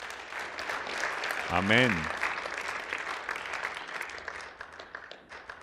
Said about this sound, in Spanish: Démosle un aplauso al joven que le entregó su vida al Mesías el día de hoy.